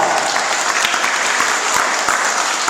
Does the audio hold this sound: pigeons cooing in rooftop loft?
no